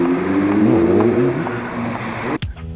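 A motorcycle engine revs with a steady, buzzing harmonic drone that rises and wavers, close and loud, then cuts off abruptly into a brief clatter.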